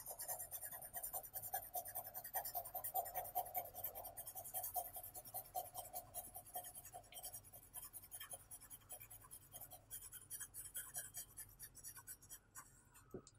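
A hard H pencil shading on paper, producing soft, scratchy graphite strokes in a continuous back-and-forth rhythm, quiet and close, with no talking.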